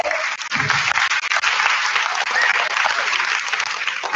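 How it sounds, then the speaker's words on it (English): Audience at a psychological and emotional well-being workshop seminar claps steadily throughout, a dense continuous wash of many hands, close and loud, with a brief lull near the start. "What are you clapping about?"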